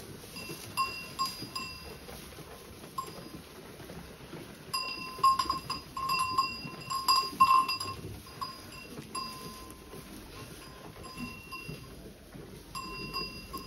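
Bionda dell'Adamello goats in an old barn give scattered bleats amid rustling and the clink of hanging bells, moderately close, with short busier stretches midway.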